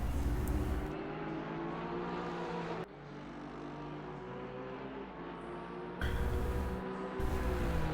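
A Porsche GT3 race car's engine at full throttle down a straight at Indianapolis in a racing game, a sustained loud drone with a couple of abrupt gear-shift breaks in pitch.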